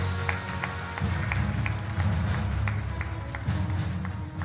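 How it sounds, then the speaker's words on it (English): Conference audience clapping to welcome a keynote speaker on stage at an education technology summit, moderate and steady applause filling the room for several seconds. "please let's give a big round of applause and let's welcome our keynote speaker on stage, Professor Brenton Burchmore."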